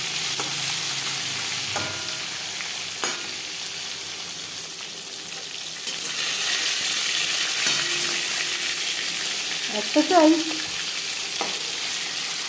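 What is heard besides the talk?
katla fish frying in a kadai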